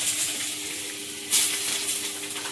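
Chopped garlic hits hot oil in a pan and keeps up a steady, soft sizzle throughout, with a brief louder hiss partway through and no talking.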